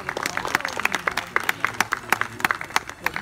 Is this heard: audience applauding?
yes